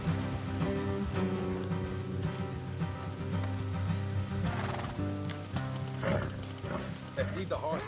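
Horses ridden along a rough trail whinny and neigh in short bursts over a dense, music-like background, close and fairly loud, with faint hoof clatter mixed in.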